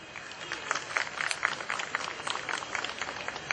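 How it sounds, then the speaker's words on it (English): Audience applause greeting poet Anita Uberoy at an informal evening poetry session, a dense, steady patter of many hands sustained evenly for a few seconds with no voices over it. "Let's welcome on stage with a big round, actually not a stage, right here with a big round of applause, Anita Uberoy."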